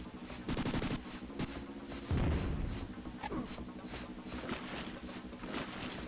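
Rapid bursts of gunfire aimed at dinosaurs in the Sega Genesis game Jurassic Park Rampage Edition, arriving in several short rattling volleys with a heavier blast midway, loud and alone over steady game background.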